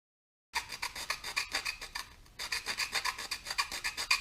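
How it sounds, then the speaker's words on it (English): A hand file rasps along the laser-cut edge of a metal R2D2 dome in quick, even back-and-forth strokes, close and crisp, with a short pause partway through before the rhythmic scraping resumes. "file it out until it's nice and smooth"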